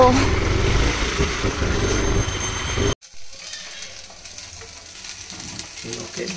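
Spicy prawn curry sizzles and fries in a pan, loud and dense at first, then drops abruptly to a quieter, lighter crackle for the rest.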